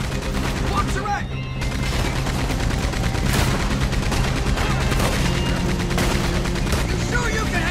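Heavy gunfire during a train chase in Red Dead Redemption 2: loud, rapid, overlapping shots in a relentless volley over the rumbling, clattering train, with shouted voices mixed in.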